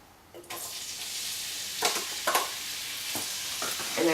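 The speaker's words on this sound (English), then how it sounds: "And now I'm going to add my onion." Onion dropped into hot rendered chicken fat in a pan, bursting into a sudden, steady sizzle with a few scraping stirs on top, close and fairly loud, with no talking.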